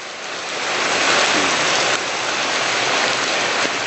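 Steady rain pours down in a dense, even hiss, loud and close throughout with no voices.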